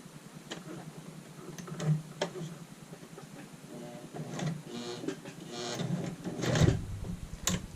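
A sewing machine back stitches an apron in short runs of rapid, ticking needle strokes, close and fairly quiet, broken by brief pauses and a few soft knocks.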